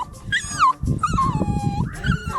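Dogs whimper during a roadside restroom and water stop on a summer road trip. Close, high, wavering whines and yips repeat in quick succession over low rustling and handling noise.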